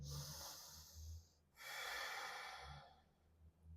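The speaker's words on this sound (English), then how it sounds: "Ujjayi breathing." Slow, audible Ujjayi breaths during a yoga flow, a soft hissing exhale followed by a longer airy inhale, close and quiet with no talking.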